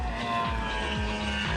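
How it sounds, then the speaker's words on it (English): Ford Mustang race cars roar past at Sonoma Raceway, a loud, sustained engine drone with stepped pitch shifts as gears change, close and steady throughout. "Those Mustangs are extremely loud."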